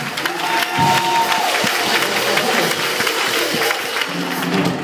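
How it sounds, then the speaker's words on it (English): A church congregation claps along during a preacher's sermon amid loud crowd noise and voices, with strong rhythmic hand claps under the general din. "Clap those hands, please."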